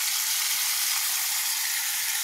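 A paste of onion, ginger, garlic and tomato sizzling in hot oil: a steady, bright, hissing fry that stays even and close throughout, with no other sound over it.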